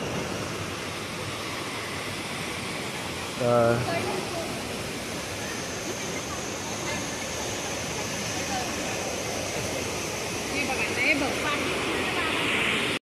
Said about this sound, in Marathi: पाऊस पडता चालू हा बारीक चालू हा.